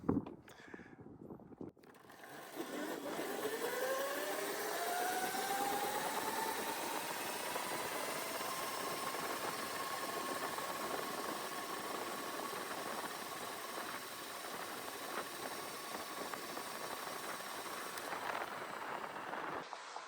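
A Razor MX650 electric motorbike on an almost fully charged top speed run, its motor whine rising steadily in pitch then holding a high, even tone over constant wind and road rumble for about twenty seconds.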